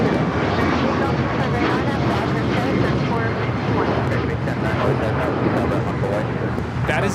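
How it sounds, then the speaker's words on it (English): A United Airlines Boeing 737 MAX 9 takes off from Los Angeles LAX, a loud, steady broadband jet roar filling the whole stretch, with voices talking over it. "That is United Airlines 2667 taking off to Washington Dulles on the MAX 9"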